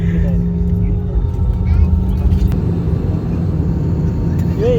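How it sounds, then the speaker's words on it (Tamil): Airplane engine drone fills the cabin, a constant low rumble with a faint steady whine, and people talk over it. "எல்லா இன்ஜின் சத்தமும் கேட்குது."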